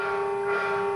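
A novelty vehicle horn imitating a train horn sounds as a single loud, sustained tonal blast that holds steady throughout, with no talking.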